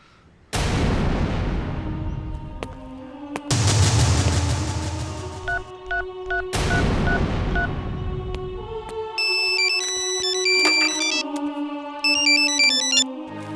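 A phone ringtone chimes in a Bhojpuri action film, electronic melodic tones repeating over booming dramatic effects and other loud sound, with no talking.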